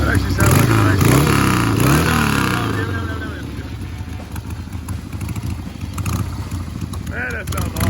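A 1970s Harley Roadster XLS1000 chopper engine running after a valve adjustment. It revs loudly up front, then settles into a steady, rumbling idle close by, while someone talks over it.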